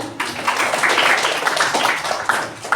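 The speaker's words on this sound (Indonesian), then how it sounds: "Tepuk tangan dulu." An audience in a classroom lecture bursts into dense, sustained applause, many hands clapping loudly and evenly throughout the short stretch, with no voices over it.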